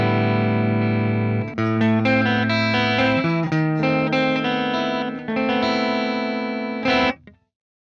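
Electric guitar run through the Neural DSP Archetype Petrucci amp plugin with the bright switch engaged, a series of distorted sustained chords and notes played alone, close and loud, ending with a short cutoff.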